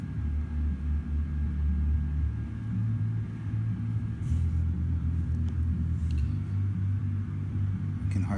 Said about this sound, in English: Bass frequency here.